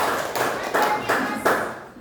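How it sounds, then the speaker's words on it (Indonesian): A group claps together in a short, dense burst of applause with a few stronger accents, fading out within two seconds. "tepuk tangan"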